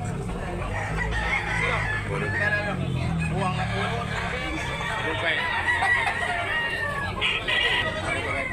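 Gilmore gamecock roosters at a Cebu breeder's yard crow and cluck amid a busy, noisy outdoor background, with people talking throughout.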